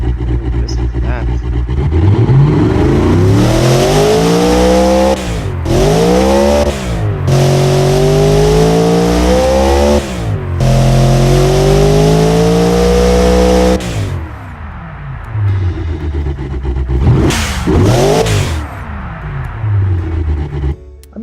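An engine in a video game drag and track car build revs loudly again and again, each note sweeping up and dropping back, with brief pauses between bursts.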